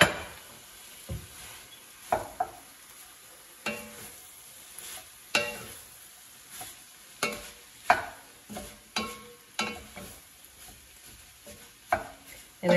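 Ground meat being stirred into a pan of browning pancetta and garlic for a Bolognese sauce, with repeated spoon scrapes and clatters over a steady low sizzle, close and fairly loud.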